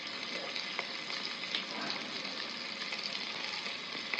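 Onions sizzle and fry steadily in a pan with spices such as bay leaf, cinnamon and cardamom, a continuous close crackle with faint stirring clicks and no voices.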